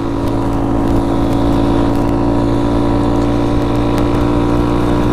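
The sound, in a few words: Honda Grom motorcycle exhaust revving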